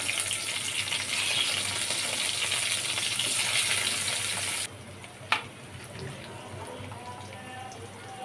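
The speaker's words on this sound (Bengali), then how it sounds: "এ পর্যায়ে এসে আমি এখানে পেঁয়াজ দিয়ে দিচ্ছি কাঁচামরিচ ফালি" Onion and sliced green chili hit hot oil with cumin, giving a loud, steady sizzle that drops abruptly to a quieter crackle after a sharp clack, close up, with a voice talking over it.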